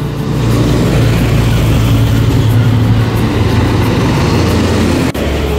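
A Rianto bus passes close by, its heavy diesel engine rumbling loud and steady, with a deep low drone that holds for several seconds before a brief dip.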